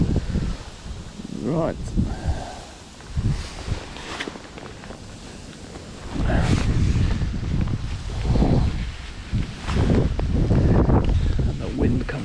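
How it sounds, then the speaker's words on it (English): Wind buffets the microphone outdoors on the bank of the River Thames at a club fishing match, rising in loud, low, rumbling gusts over about twelve seconds, with a brief spoken word among them. "And the wind comes back to plague me."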